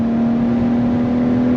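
BMW 323i E36 inline-six held at a high, steady rev around 6500 rpm, a sustained loud drone with a strong constant tone, heard close from inside the car.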